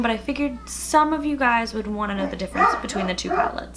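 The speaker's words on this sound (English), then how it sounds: "excuse my dogs barking, they're a little bit loud" Dogs barking loudly indoors in a series of sharp, repeated barks and yips close to the microphone, overlapping someone talking steadily about makeup palettes.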